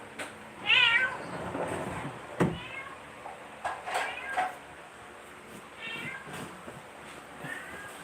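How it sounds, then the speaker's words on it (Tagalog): A cat meows repeatedly, several plaintive cries spread across the stretch, with people talking quietly and a few knocks in the background. "May umiiyak na pusa."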